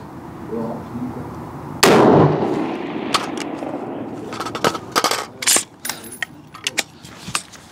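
A single loud rifle shot rings out from a Schmeisser SP-15 straight-pull AR-15 firing GGG 55 grain ammunition on a 300 m range, followed by scattered metallic clicks and clatter from handling the gun.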